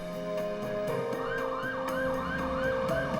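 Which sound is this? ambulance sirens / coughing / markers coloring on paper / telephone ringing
ambulance sirens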